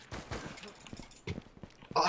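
Gunfire in the Anarea Battle Royale video game, several short sharp shots scattered across a couple of seconds amid game noise, moderately loud with a burst at the end.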